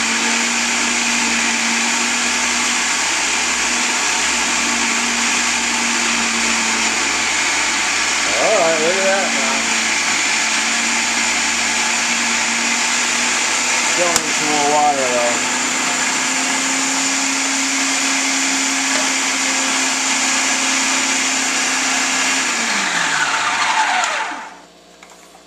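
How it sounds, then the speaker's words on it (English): A food processor motor whines steadily as it struggles to knead homemade pizza dough, its tone dipping briefly under load around the middle before spinning down to a stop near the end. "I think it's just hard on a food processor to try to make pizza dough"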